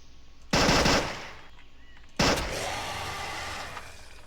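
Video game gunfire comes in two loud bursts of rapid automatic shots about a second and a half apart, each fading into a ringing tail, with no talking.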